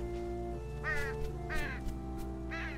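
A bird caws three times at spaced intervals in the video game Unravel, each harsh call standing out over a soft, sustained musical backdrop.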